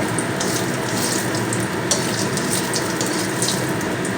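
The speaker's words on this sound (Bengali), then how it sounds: "বড়িটা তেলের মধ্যে দিয়ে একটু কড়া করে ভেজে নেব" Lentil bori fry in hot oil with a continuous, fairly loud hissing sizzle that stays even throughout the short stretch, with no voices.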